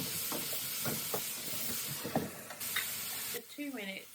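Food fries in a pan with coriander and chili nearby, a dense continuous sizzle punctuated by scraping stirs and short clanks, with a brief voice near the end as the hiss drops away.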